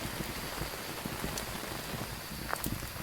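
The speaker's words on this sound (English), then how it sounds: "The rain is very loud right now," Heavy rain pours steadily in a Phasmophobia thunderstorm as a dense, continuous hiss of drops hits the surfaces, with a few brighter splashes. The sound is constant and fairly quiet, with no voices.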